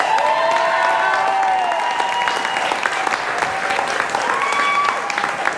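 Concert crowd at an outdoor country music festival and 5k run cheering and applauding country singers, dense sustained clapping with whoops and scattered voices throughout.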